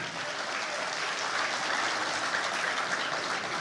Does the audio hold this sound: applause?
yes